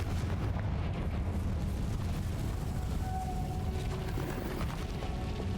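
The Confringo fire spell from Hogwarts Legacy bursts in a sustained, rumbling explosion, a dense roar of low booms and crackle that holds steady for several seconds.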